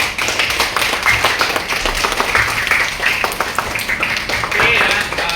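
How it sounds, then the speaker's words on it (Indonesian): A class of students applauding together after a school activity, with dense, steady clapping that carries through to the end at close range. "beri tepuk tangan buat kegiatan kita hari ini"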